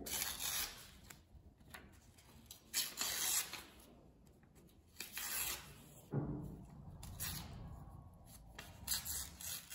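Close, soft rips and rustles of paper being torn into pieces, several short tears with pauses between them, no voices.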